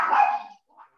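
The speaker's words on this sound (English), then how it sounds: "Sorry, my little dog is... Still telling you it's hungry" A small dog gives one short, sharp bark up close, followed by a faint brief yip.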